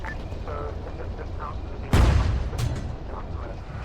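In Arma 3 gameplay, heavy gunfire and an explosion-like boom go off in a sharp loud burst followed by a second, smaller crack, with faint voices over the radio before it.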